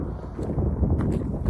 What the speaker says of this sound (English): it's a little windy, like I said